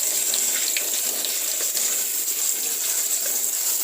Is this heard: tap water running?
yes